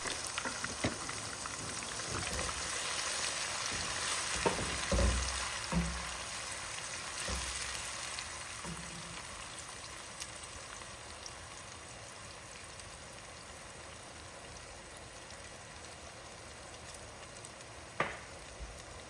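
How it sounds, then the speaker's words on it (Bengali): A cup of onion paste fries in hot oil with a steady, rain-like sizzle. A few utensil knocks and stirring scrapes come early, and one louder clatter sounds near the end. "তেলটা গরম হয়ে যাওয়ার পরে এখানে দিয়ে দিচ্ছি 1 কাপ পরিমাণে পেঁয়াজ বাটা। দিয়ে ওইটাকে তেলের মধ্যে ভালোভাবে ভেজে নিব।"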